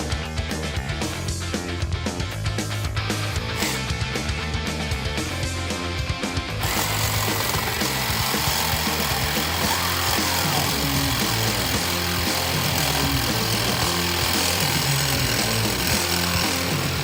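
A power tool fitted with an abrasive blade grinds against a Moto Guzzi cafe racer motorcycle frame, loud and continuous close by, shifting to a harsher, denser whine partway through.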